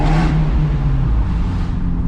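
Abarth 124 Spider engine droning loud and close, with a deep steady rumble and slight surges as it revs, heard on its own from inside the car.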